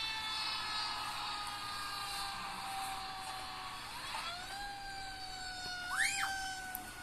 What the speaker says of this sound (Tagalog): Oh, that's the ambulance.